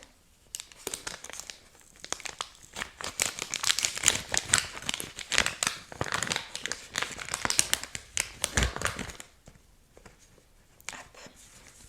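Packets of non-woven gauze compresses being torn and opened, close crinkly rustling and ripping in dense bursts that grow busier, then thin out toward the end, with no talking.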